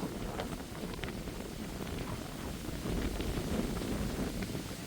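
Steady wind blows through an outdoor garden where ripe melons are being picked, a continuous broadband rush with gusty buffeting on the microphone, rising slightly toward the end, with no voices.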